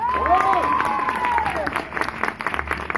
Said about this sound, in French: Merci Christophe, on peut l'applaudir très fort.